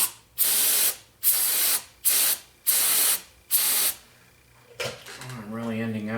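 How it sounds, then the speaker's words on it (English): Short hissing bursts of spray cleaner on a Ruger Redhawk revolver, five loud pumps in a steady rhythm, followed by quieter handling and a low hum. "I really enjoy these spray cleaners"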